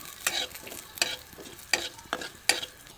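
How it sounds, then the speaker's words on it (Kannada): Urad dal and chana dal frying in hot oil for an Udupi-style recipe, a steady crackling sizzle punctuated by four or five sharp stirring scrapes at roughly even intervals, close and moderately loud, with no talking. "ಇನ್ನು ಈ ಎಣ್ಣೆಗೆ ನಾನು 1 ಚಮಚ ಆಗುವಷ್ಟು ಉದ್ದಿನಬೇಳೆ, 1 ಚಮಚ ಆಗುವಷ್ಟು ಕಡಲೆಬೇಳೆ ಎರಡನ್ನು ಹಾಕಿ ಚೆನ್ನಾಗಿ ಫ್ರೈ ಮಾಡಿಕೊಳ್ತೇನೆ"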